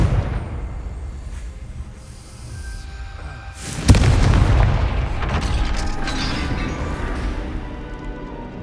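Confringo spell explosion in the video game Hogwarts Legacy, a sudden loud boom with a deep rumbling blast that rolls on and fades slowly over game ambience.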